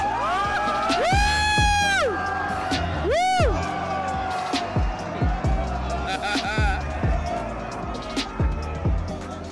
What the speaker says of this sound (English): Got to love the crowd cheering on the cop.